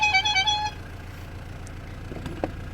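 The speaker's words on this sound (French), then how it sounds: "Et un petit coup de klaxon pour dire qu'on est là." A van's horn sounds in a few quick, close toots on arrival, then gives way to a low idling engine rumble with a couple of faint clicks.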